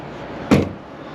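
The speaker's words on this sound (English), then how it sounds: "The door does shut good though. I barely slammed it." A door on a 1964 1/2 Ford Mustang F-code classic car swung shut with a single solid thud, close and brief, against quiet room noise.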